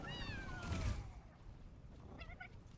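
A jetpack cat in a video game gives a soft, drawn-out meow that bends downward, then a few faint short mews, all low under background game sound.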